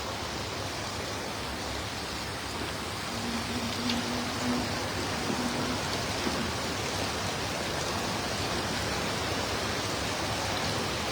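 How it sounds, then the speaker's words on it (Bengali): Heavy rain pours down at an outdoor cattle market, heard from under a shed as a dense, even hiss that stays constant and loud for the whole stretch. "আর হইলো একদম ঝুমছে বৃষ্টি, আটকায় গেছি।"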